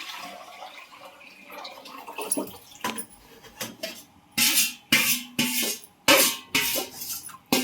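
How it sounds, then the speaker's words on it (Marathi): Cooked dal water is poured into a hot pan of spiced frying mixture in a home kitchen, making a series of loud, splashing bursts with short pauses between them. "हे आपल्याला ना डाळ शिजवलेलं जे पाणी आहे ते टाकायचं आहे."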